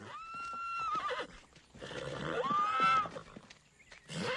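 A horse whinnies loudly twice, a high wavering neigh followed by a second rising call, with a brief snort or stir at the end.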